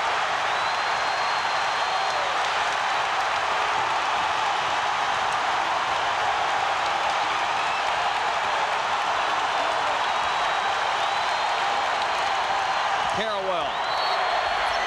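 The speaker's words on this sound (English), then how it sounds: "This crowd is going crazy." An arena crowd roars steadily at a 2000 Duke versus UNC college basketball game, a loud sustained wall of cheering with whistles, while a commentator talks over it throughout.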